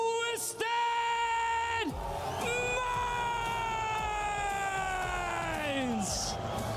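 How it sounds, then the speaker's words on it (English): Twisted Minds fans at a Rocket League esports watch party whoop and yell in long, drawn-out sustained cries that rise and fall, loud and close, with speech mixed into the crowd noise. "Twisted Minds fans over here making noise."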